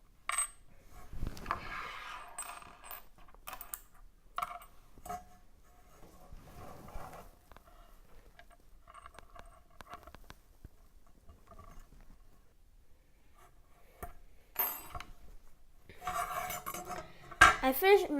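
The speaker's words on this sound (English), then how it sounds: "using these screws, attach these clamps to the panel" Small metal screws and clamps clink and clatter in sharp, scattered bursts while a rover body panel is assembled, with quiet pauses between handling sounds and a denser cluster of clanks near the end.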